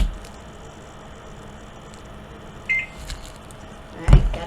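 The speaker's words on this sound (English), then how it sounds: "Alright, got a beep on that one," A barcode scanner in a phone coupon app gives one short, faint electronic beep over quiet room noise, followed by a soft handling bump.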